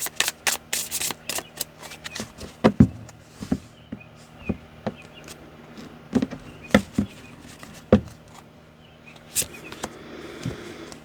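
Tarot cards shuffled and drawn by hand, with a steady run of close, crisp riffling and snapping card flicks and soft rubbing between them, heard alone with no talking.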